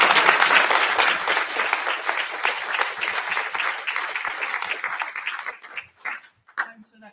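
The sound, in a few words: rally crowd applause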